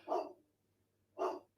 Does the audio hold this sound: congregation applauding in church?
no